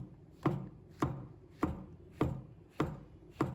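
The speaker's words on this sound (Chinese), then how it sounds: "把它切成片" A knife slices shiitake mushrooms on a cutting board, six crisp, evenly spaced chops about half a second apart, close and distinct with no voices.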